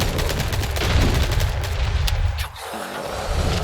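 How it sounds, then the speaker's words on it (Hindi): Gunfire rings out during a boss fight against El Gigante in Resident Evil 4 Remake, a rapid barrage of loud shots and booms that drops off briefly near the end before resuming, with no speech over it. "गोली तो भर भर के मार रहा हूँ यार मैं इसे।"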